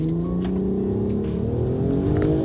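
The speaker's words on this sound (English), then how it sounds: "With its sexy VR6 engine, its iconic center mount exhaust," A Volkswagen R32 with its VR6 engine and center-mount exhaust revs steadily, its tone climbing smoothly as it accelerates, loud and close without speech.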